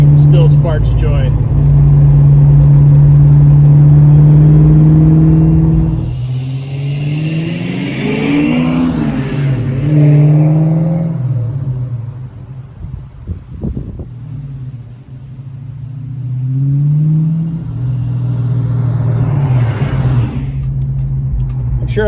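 A Fox Body Mustang engine drones loudly while driving, rising and falling through several revving sweeps with wind noise, a strong low engine tone swelling, easing off and building again.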